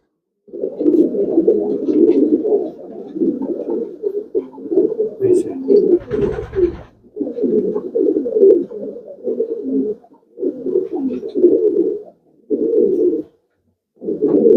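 Close, loud cooing of a long-distance racing pigeon in repeated throaty phrases separated by short pauses, with a brief rustle in the middle.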